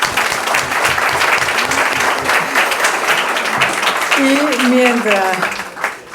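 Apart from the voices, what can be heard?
audience applause for a forum panel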